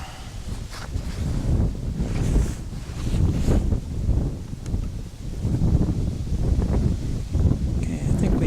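Strong, extremely windy conditions buffet the microphone over trees, a steady low rumbling roar with surging gusts throughout, and a voice talks intermittently over it.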